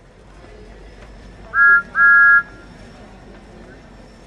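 Thomas the Tank Engine's whistle sounds in two bright toots, a short one followed by a slightly longer one, loud over quiet background.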